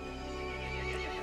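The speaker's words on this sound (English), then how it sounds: "The horse grew angry and summoned the other monsters." A horse in the video game Resident Evil Village lets out a sustained, tonal whinny over a steady droning background, brief and fairly loud with no speech.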